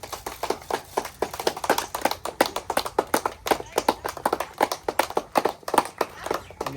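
A group of people claps loudly at a family birthday surprise, with fast, sharp hand claps that fall in a quick, somewhat uneven rhythm and continue steadily for several seconds, close and prominent.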